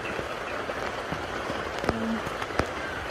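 Heavy typhoon rain during Typhoon Paeng patters steadily outside a home, a soft continuous hiss broken by a few sharp drips and knocks.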